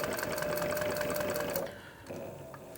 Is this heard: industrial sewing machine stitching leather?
yes